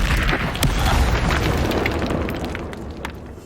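An Incendio fire spell is cast in Hogwarts Legacy, a loud, dense whooshing blast of flame that roars continuously, crackling and fading slightly toward the end.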